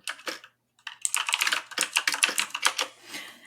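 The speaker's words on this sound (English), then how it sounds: "hear my keyboard" Rapid keystrokes clatter on a computer keyboard, a short burst, a pause, then a steady run of close, crisp typing.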